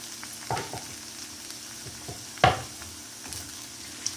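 Chopped tomato, green chili and curry leaves frying in a pan for a black chana masala, a steady sizzle with a couple of louder spatters and stirring scrapes, close up and without speech.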